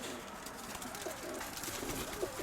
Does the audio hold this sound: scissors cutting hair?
no